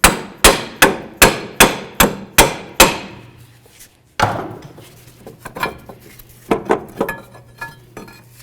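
Seven sharp, evenly spaced metallic hammer strikes knock out a pinch bolt on a Honda Accord steering knuckle, followed after a pause by a looser series of lighter clanks and taps.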